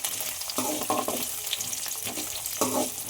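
Ingredients sautéing in hot oil in a home kitchen pan, a continuous bright sizzle with several bursts of stirring scrapes, close and fairly loud.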